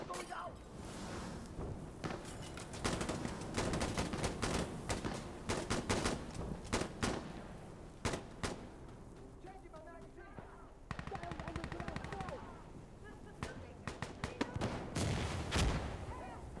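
Rapid gunfire and thudding mortar blasts in a hardcore video game match, with dense bursts of shots and heavy impacts going on throughout, while a voice talks over the noise.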